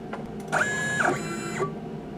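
The spindle of a CNC engraving machine, cutting a bracelet charm, spins up to a steady high whine, holds it for about a second, then winds down. The sound is close and there is no talk.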